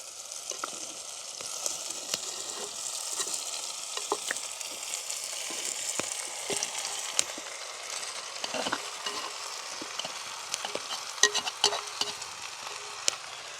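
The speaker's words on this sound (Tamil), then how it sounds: "கழுவி வட்டி வச்சுட்டு இருக்கிற இறைச்சியை வந்து நாங்கள் இதோட சேர்க்க போகிறோம்" Native chicken meat is tossed into sautéed tomato, onion and green chili and stirred in a village kitchen pan, making a continuous soft hiss and sizzle with frequent light scraping ticks throughout, with no voices.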